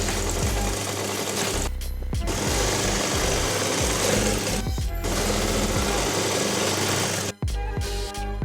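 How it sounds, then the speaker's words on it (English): A sewing machine runs steadily, stitching a stretchy fabric hem, with a loud continuous motor drone broken by two brief pauses before the stitching resumes. "You're gonna put it underneath your sewing machine, and you're gonna stretch both sides evenly while you stitch."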